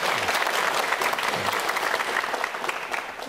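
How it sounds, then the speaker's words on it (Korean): An audience at a Korean panel event on Jeolla's future and new industries breaks into steady, dense applause, loud and even throughout before easing slightly at the end. "박수 한번 주시죠."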